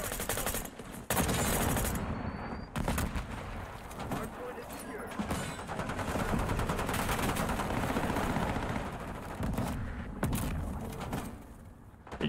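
Rapid gunfire and explosions from the video game Call of Duty Black Ops 6, dense and continuous with bursts of machine-gun fire and blasts throughout, under a player's voice.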